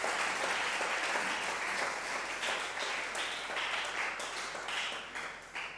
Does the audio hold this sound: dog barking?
no